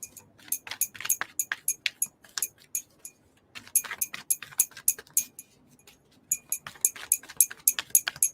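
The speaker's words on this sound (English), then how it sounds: "Little mini sloppy shuffle." Tarot cards are shuffled in quick bursts of crisp riffling clicks, two runs separated by brief pauses, close and fairly loud with no talking.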